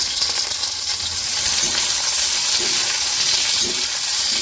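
Chopped garlic and onion sauté in hot oil for Kolkata-style dry chilli chicken, giving a loud, steady close sizzle with a few soft stirring scrapes and no talking.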